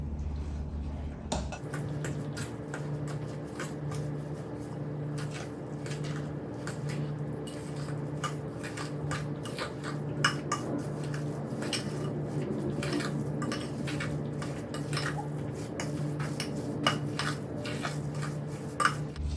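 A utensil stirs a paste of smoked mackerel, eggs, cheese and onion in a bowl, giving continuous soft scraping and light clinks at close range over a low steady hum.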